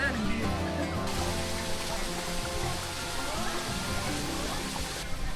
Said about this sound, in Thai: น้ำตกดีมากทุกคน หนำใจสุดๆ